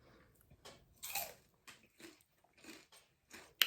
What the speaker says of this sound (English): I wanted y'all to hear the crunch.